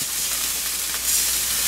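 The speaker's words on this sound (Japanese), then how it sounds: "ケチャップと醤油を鍋の隅っこに置いてちょっとだけ焦がします" Ketchup and soy sauce scorch at the corner of a pot, giving a steady close sizzle and hiss with no voices.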